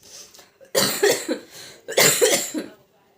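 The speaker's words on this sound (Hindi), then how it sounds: "तब से खांसी नहीं जा रही है" Several harsh coughing fits in two bursts, loud and close, each a rapid run of hacking coughs separated by a short pause, from a person with a lingering cough after a cold.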